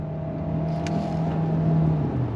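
A 2025 Kia Sorento Hybrid SUV pulls uphill under throttle, giving a steady droning engine and road hum from inside the cabin with a slight rise in pitch near the end.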